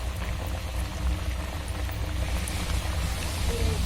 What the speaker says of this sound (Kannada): ಇವಾಗ ಎಣ್ಣೆಗೆ ಬಿಡೋಣ ಇದನ್ನು.